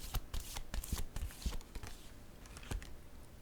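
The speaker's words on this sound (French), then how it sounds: "Je vais piger une carte." A tarot deck is shuffled by hand, producing rapid close riffling and flicking card sounds in quick bursts that thin out toward the end.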